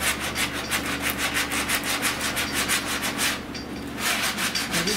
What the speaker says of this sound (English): I just want to sand this down. Until my grill fit in there.